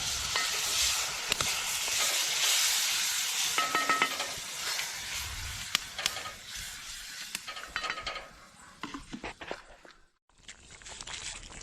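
Lobster loudly sizzling and hissing in a hot pan after a splash of water, with stirring scrapes and clatters throughout, fading toward the end.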